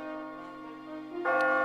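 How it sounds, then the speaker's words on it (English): Bell ringing near the goal in the video game Catherine: Full Body, a sustained ringing tone with layered overtones that swells louder with a fresh strike toward the end. "When you hear the bell ring, you'll know that you've almost reached the goal."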